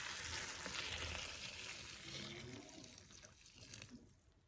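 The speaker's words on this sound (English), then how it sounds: "pour some hot water on and let them soak" Hot water is poured over chiles in a bowl to soak them, a continuous splashing pour that is loud at first and gradually eases off, with a few trickles at the end.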